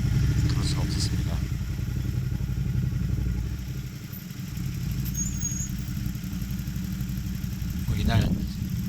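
A Ducati Monster 1200S motorcycle rides on a Jeju tour, its engine a continuous low rumble under heavy wind buffeting, with brief louder rises and a few short clicks.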